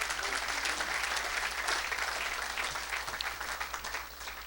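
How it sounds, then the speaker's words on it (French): A church congregation breaks into steady, dense applause for Jesus during a bilingual French and English sermon, a continuous wash of many hands clapping in a large room over a low hum. "Est-ce qu'on peut acclamer pour Jésus?"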